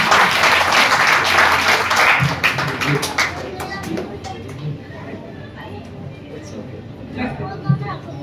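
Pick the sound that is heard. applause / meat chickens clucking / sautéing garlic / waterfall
applause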